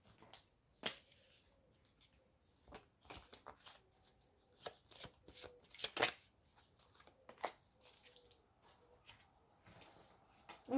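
An oracle card deck being shuffled by hand, with crisp irregular clicks and snapping riffles in quick scattered bursts, close and quiet against near silence.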